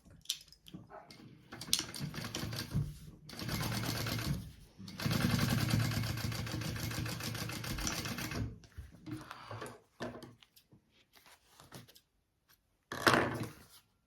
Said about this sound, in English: I want to top stitch along this lining piece that I just added